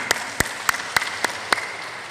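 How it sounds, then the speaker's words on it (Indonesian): A church congregation claps in slow unison, about seven sharp, evenly spaced claps over a low background murmur. "Puji Tuhan, tepuk tangan."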